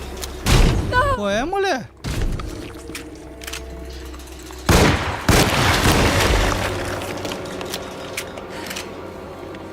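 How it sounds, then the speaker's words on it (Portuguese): Gunshots go off in a dark video game, with sharp booming bursts near the start and a louder blast around the middle trailing into rumbling noise, mixed with a player's exclamations and talk. "eu dei um tiro"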